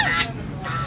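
Ducks just let out of a sack call with short, nasal honking quacks, two close calls in quick succession.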